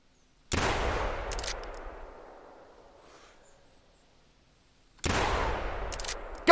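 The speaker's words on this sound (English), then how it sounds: "I think we're better off to take a shot on this one." Two sharp gunshots from a hunting rifle in the Call of the Wild hunting video game, spaced a few seconds apart, each loud and followed by a long echoing tail that fades out.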